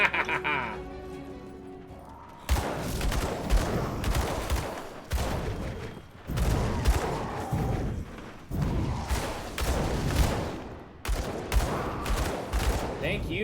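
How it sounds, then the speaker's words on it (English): Canister bomb explosions in the action RPG Grim Dawn, a series of loud repeated blasts and combat bursts in clustered waves separated by short gaps, after a quieter opening. "Thank you, canister bomb."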